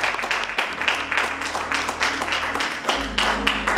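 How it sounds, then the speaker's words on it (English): A church congregation at a Sunday service claps their hands in praise, a lively, uneven patter of many hands over a low organ or bass tone that keeps going to the end. "Clap your hands. Let's give God praise."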